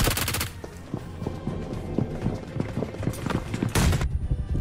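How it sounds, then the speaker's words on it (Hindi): Rapid bursts of BGMI video game gunfire crackle in quick volleys, steady and close, with heavier booming shots near the end. "बहुत ज्यादा गोलियां पड़ रही है यहां पे।"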